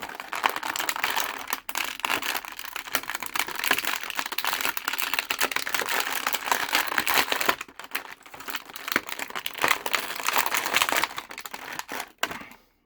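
Plastic packaging crinkles and crackles almost nonstop as a Janemba action figure is worked free, its tail caught in the wrapper; the close, busy rustling breaks off briefly a few times.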